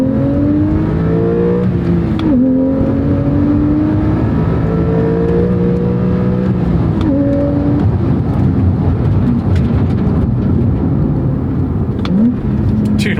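A Porsche 911 Carrera T (991.2) with a flat-six engine pulls hard through the gears, its rising engine note climbing repeatedly and dropping sharply at each upshift, loud and close from inside the car.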